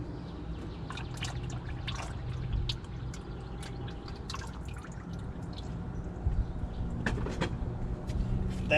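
Engine oil draining from a 2007-2011 Jeep Wrangler with a 3.8 V6, a steady close trickle and dripping into a pan, with a few sharper drips and clinks over a continuous low rumble.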